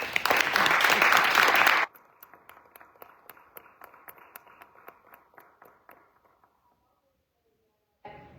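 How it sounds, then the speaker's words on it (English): A crowd at a panel discussion applauds loudly for about two seconds, then scattered claps trail off one by one into near silence. "join me in giving our panelists a warm round of applause"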